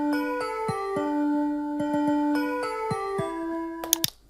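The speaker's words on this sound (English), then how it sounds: "Let's go for bells." A synthesized bells instrument in BandLab plays a simple festive melody of bright, sustained chiming notes, one after another in a steady rhythm, ending with a brief sharp click.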